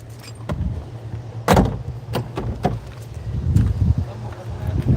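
An old Mercedes car door in a junkyard shuts with a solid, loud thump, preceded and followed by lighter clicks and knocks, over a steady low hum with faint talk nearby.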